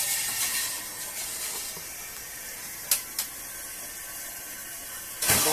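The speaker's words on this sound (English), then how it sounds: "The water is filling up." A newly installed toilet in a small cabin has its tank filling with water, a faint steady hiss and trickle broken by a few short sharp spurts of spraying air and water, close by and without voices.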